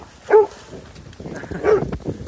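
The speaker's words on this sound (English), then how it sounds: "You crazy dogs." Dogs at the water's edge on a freezing day give two short, close whimpering yelps, about a second apart, with a restless low rumble of movement between them.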